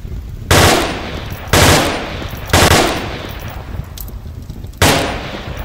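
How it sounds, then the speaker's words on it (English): Full automatic rifle fire in the VR military shooter Onward, four loud sustained bursts of rapid gunfire with brief gaps between them, close and dominant. "Or you can switch it back to a rapid fire and go full automatic."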